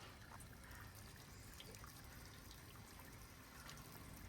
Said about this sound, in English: it pours water in the chute